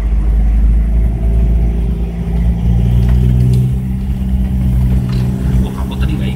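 A 2014 Land Rover 110 Puma with a turbo diesel engine drives along, its loud, steady low diesel drone and cabin rumble continuing throughout, with people talking over it.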